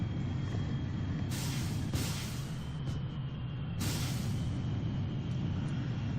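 Panther jet engines in Kerbal Space Program switching into afterburner, a steady roaring jet rumble with bursts of louder hissing thrust that swell and fade twice, no talking.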